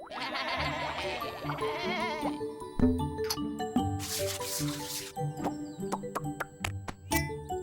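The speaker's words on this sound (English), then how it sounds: "The sheep are in their paddock." Sheep in a paddock bleat repeatedly over light music, wavering calls coming one after another at close range.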